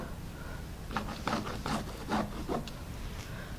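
A friction pen scratches lines across quilt batting in a series of about six short, rasping strokes, close and fairly quiet, with no talking.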